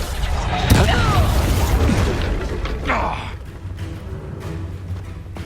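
A Reducto spell blast in Hogwarts Legacy lands as a loud booming crash with a whooshing burst and debris-like crackle, rumbling close up before settling into lower background noise.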